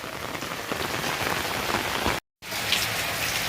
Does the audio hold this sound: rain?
yes